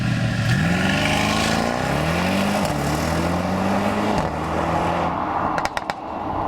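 A 2021 Mercedes-AMG E 63 S sedan accelerates hard, its engine pitch climbing through three upshifts with brief dips between gears, loud and steady from inside the car, ending in a few sharp clicks.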